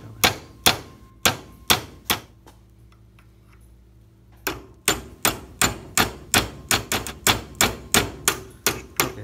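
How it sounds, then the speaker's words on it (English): A hammer strikes a punch to loosen a retaining clip on a BMW 335i N54 E90 turbo, in sharp metallic clanks: a few hits, a short pause, then a fast regular run of blows, close and loud. "I'm going to take a punch and a hammer, try to loosen up this clip"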